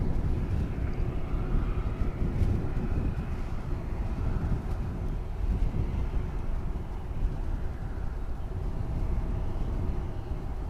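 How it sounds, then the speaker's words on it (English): An American Eagle regional airliner on Flight 3571 from Wichita Falls, landing at DFW Airport, gives a low rumbling engine roar with gusty wind buffeting the microphone, steady and moderately loud throughout, without speech. "That would be American Eagle Flight 3571 coming in from Wichita Falls"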